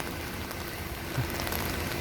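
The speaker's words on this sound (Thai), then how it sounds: "ฝนตกแล้วเจอดินเหนียว" Rain falling outdoors around an old UD CW30M truck hauling a CAT E200B excavator, a steady soft hiss of drops on surfaces, fairly faint and even throughout.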